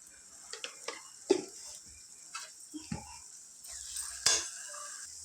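Egg curry with chili powder and spice mix is stirred in a pan, with scattered scraping knocks of the spoon over a soft background sizzle, close and fairly quiet, with no talking.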